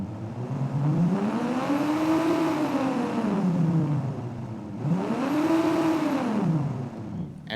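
A synthesized car engine built from granular sound design for a driving game revs up in two long smooth sweeps, pitch rising then falling each time, loud and continuous with no voices.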